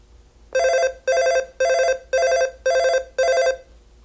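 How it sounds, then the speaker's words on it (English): Midland GXT1000 walkie-talkie sounding call tone number 5: six evenly spaced bright electronic ringing bursts, clear and close against a quiet background, with no talking. "That's my favorite one, call tone number 5."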